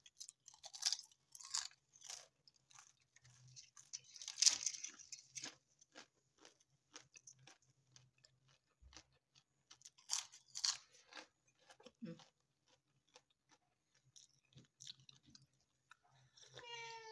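Crispy homemade poori is bitten and chewed close up, a long series of sharp crunches with pauses between, loud bites followed by softer munching.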